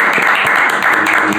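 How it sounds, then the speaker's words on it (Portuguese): A brief burst of applause greets a guest in a podcast studio. The clapping is close and fairly loud, with an uneven texture, and it lasts just over a second. "Aplauso!"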